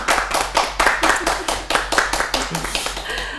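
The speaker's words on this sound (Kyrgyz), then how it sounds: "Кол чабуулар." A studio audience claps in a strong, regular rhythm to welcome a guest singer on a Kyrgyz music show, with loud, close beats repeating evenly for a few seconds.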